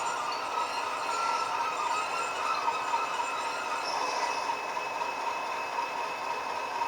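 A Bachmann Class 37 model diesel locomotive, number 37305, runs along the track with a steady, continuous rolling hum and faint wheel squeal, even and close throughout with no voices.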